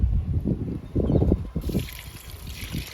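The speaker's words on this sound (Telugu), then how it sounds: "మొత్తం పోసేస్తాను జామ మొక్కకి." Kitchen-waste liquid fertilizer is poured onto a guava plant, a trickling, splashing pour of moderate loudness that runs steadily and then tails off into a quieter dribble.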